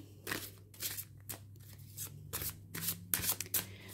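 Tarot cards shuffled by hand, a steady run of crisp riffling and slapping bursts repeating close up over a low constant hum, with no voices.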